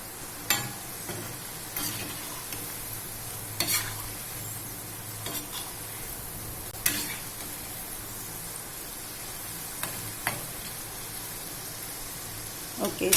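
Potatoes frying in oil for sabudana khichdi, a continuous crackling sizzle broken by repeated scraping strokes of a spoon stirring the pan every second or two; no voices.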